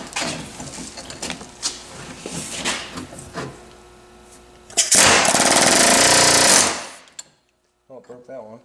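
An air hammer with a flat chisel knocks U-joint retaining clips out on a twin-turbo 5.2 Magnum build. Scattered sharp taps and rattles come first, then a loud sustained rapid hammering burst for about two seconds. It stops abruptly, followed by brief speech.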